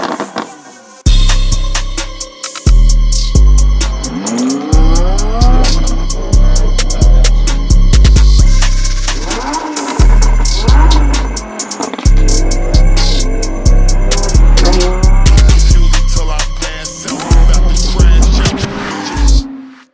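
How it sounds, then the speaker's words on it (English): A red Lamborghini Huracan LP610 revs loudly close by, with repeated bursts of engine roar and tire squeal coming in steady pulses over about twenty seconds. "Lamborghini Huracan LP610."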